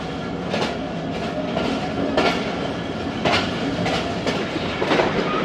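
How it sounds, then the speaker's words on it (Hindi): The Jaffar Express, a passenger train, rolls into Lala Musa junction with a continuous rumble and rhythmic clickety-clack of wheels over rail joints, heard steadily from inside a carriage. "ट्रेन इंटर हो रही है लाला मूसा जंक्शन"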